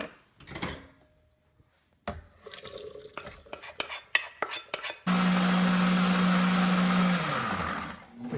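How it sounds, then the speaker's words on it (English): A blender whirs steadily for several seconds with a strong hum, pureeing boiled green peas, after some clinks, scrapes and rattles of the peas being added. "I'm going to add it to the blender here."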